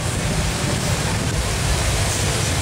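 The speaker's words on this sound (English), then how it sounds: "Protect yourself from the wind." Strong wind blowing outdoors in Thailand, a steady, loud, rushing roar with no breaks, buffeting the microphone throughout.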